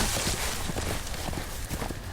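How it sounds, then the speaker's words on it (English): Horse hooves clip-clop in a quick, uneven patter over a steady background din, a loose run of close hoofbeats with faint voices nearby. "What a crappy horse."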